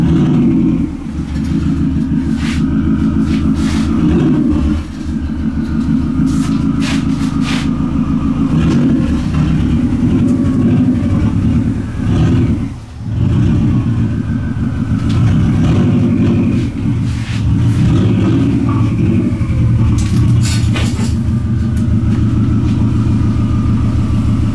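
A project car engine idles and revs after an ignition coil conversion, loud and close, a steady low rumble with rough pulsing and a brief dip near the middle, running alone without talk.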